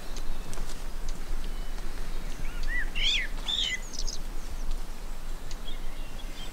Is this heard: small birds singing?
yes